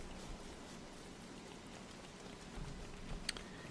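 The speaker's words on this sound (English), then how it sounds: "now that I'm finally out of the rain and into the protection of the pig village" Steady rain from the video game Don't Starve, a soft even wash of falling drops with no voices, faint throughout with one brief sharp tick near the end.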